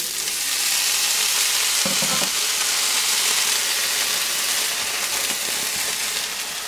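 Oil and carne asada sizzle steadily on a Blackstone griddle set near low heat, a dense, even frying hiss that runs loud throughout with a few faint scraping stirs, no talk.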